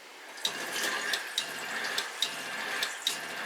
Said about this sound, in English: what you'll probably hear, or you should better hear, is the pump cycling